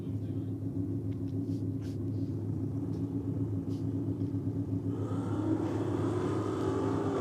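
Drag racing cars, including a Holden HQ, launch and roar down the strip, a deep continuous engine rumble that swells louder and brighter toward the end.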